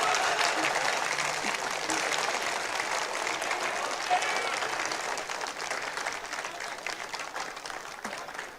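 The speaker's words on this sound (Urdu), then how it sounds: "اب سمجھ میں آیا کہ کیسی تالیاں ہونی چاہیے تھیں" Sustained audience applause fills a poetry mushaira hall at the Arts Council of Pakistan, a dense, steady wash of clapping from many hands that holds loud throughout and tapers only slightly toward the end.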